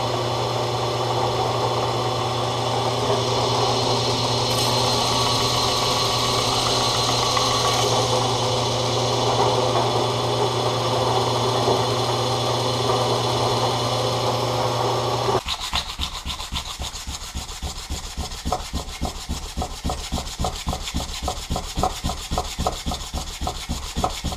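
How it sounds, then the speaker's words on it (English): A knife blade on a belt grinder with a finer grit belt: a steady, loud grinding hum with a continuous sanding rasp, then the tone shifts to a rougher, pulsing scrape as the belt works back and forth. "I'm running some finer grit belts here to get it ready to start hand sanding"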